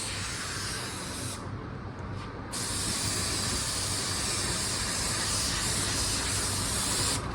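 A cheap $16 spray gun laying paint onto a customer's car in a paint booth: a steady, loud hissing spray that cuts off briefly for a second or so, then resumes continuously under a low background rumble.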